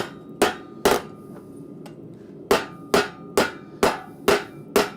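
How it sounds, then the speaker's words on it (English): A 3-pound rounding hammer strikes hot metal at a blacksmith's forge: sharp, ringing blows close up, two quick hits, a pause, then six evenly spaced strikes in a steady rhythm. "I'm just kind of using the weight of my 3-pound rounding hammer on the rounding side to actually shape this"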